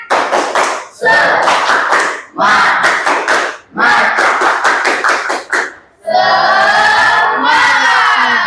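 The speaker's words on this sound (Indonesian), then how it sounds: "kalau masih semangat, coba tepuk semangat" Schoolchildren perform a rhythmic spirit clap in a classroom, loud patterned bursts of claps in groups separated by short pauses, ending in excited shouting and cheering.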